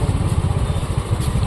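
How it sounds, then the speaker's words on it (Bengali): Motorbikes rumble and putter at low speed close by as they leave a ferry at a Ganga ghat near Mayapur, with a steady, throbbing engine sound. "ফার্স্টে বাইকগুলো বেরিয়ে যাক।"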